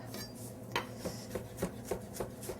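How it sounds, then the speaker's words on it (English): A knife chops fresh cilantro on a cutting board, coarsely, for a stew served with polenta and baked eggs. About seven crisp, evenly spaced chops repeat at a steady rhythm over a low kitchen hum, with no talking. "I have some cilantro that I'm going to chop."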